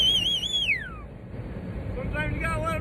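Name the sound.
loud human whistle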